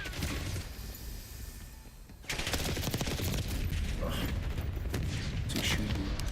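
Gunfire crackles in the Black Ops 6 video game, bursts of rapid shots rattling over an ongoing mix of game noise, loud and dense after a quieter opening.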